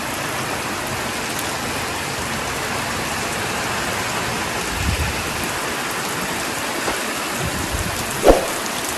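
Heavy rain of the December rainy season in Bicol roars steadily and close, with a few low rumbles and a sharp crack near the end that may be distant thunder. No one speaks.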